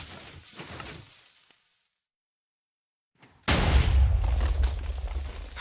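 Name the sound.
TNT cannon firing and exploding in Minecraft video game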